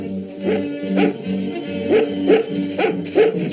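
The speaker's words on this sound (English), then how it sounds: "What's that bow wow doing here?" A dog barks in a quick series of short, sharp yaps, fairly close and loud, roughly one bark every half second.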